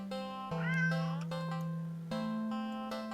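A black cat meows clearly and close by, one drawn-out rising and falling call over a steady sustained tone, with no talking.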